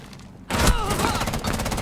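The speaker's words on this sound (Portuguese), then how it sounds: "Caralho, esse tiro da Frost!" Gunfire from the operator Frost in Rainbow Six Siege bursts in after a brief quiet, a loud, rapid string of close shots and clattering impacts continuing to the end.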